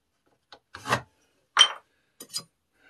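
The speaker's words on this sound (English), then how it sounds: "I'm taking the blade and rubbing it on the back of my belt" Soft, brief rubbing strokes, three or four short swipes of a hand plane blade drawn across a leather belt, quiet and close, with silence between them.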